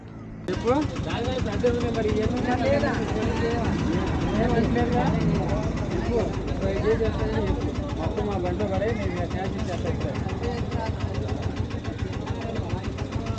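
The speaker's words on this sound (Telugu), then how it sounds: "ఇప్పుడు లోడ్ బండి ఘాటీ దిగాలి, మొత్తం బ్రేక్ మీద అండ్ ఇంజిన్ బ్రేకింగ్ మీద అయితే బండి దిగాల్సి ఉంటుంది." A heavy diesel engine rumbles steadily at low pitch, a truck loaded with jackfruit descending a ghat road on brakes and engine braking, with a voice talking over it throughout.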